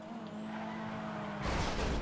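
Jester Classic car drifting through corners in GTA, a steady engine tone that swells into a louder, rougher burst of tire and engine noise near the end.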